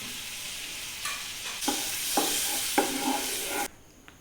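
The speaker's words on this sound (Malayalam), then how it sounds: "ഒരു കടായി അടുപ്പത്ത് വെക്കുക, കുറച്ച് എണ്ണ ഒഴിക്കുക, ബട്ടർ ഇടുക, തീ ഒരു സിമ്മിലിട്ടാൽ" Butter and oil heat and sizzle in a kadai on a stove set to low flame, a steady frying hiss broken by a few sharp scraping stirs, then dropping away.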